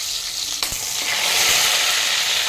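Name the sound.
garlic, mustard seeds and cumin sizzling in hot oil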